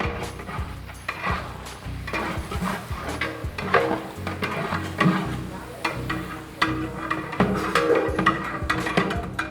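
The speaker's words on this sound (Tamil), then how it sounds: "இப்போ மட்டனுக்கு வந்து ஆயில் சூடாகிடுச்சு, வெங்காயம் சேர்க்க போகிறேன்." Three kilos of onions fry in hot oil in a large pot for Ambur mutton biryani, a steady sizzle under repeated scraping and stirring strokes with clanks of a metal ladle, close and fairly loud.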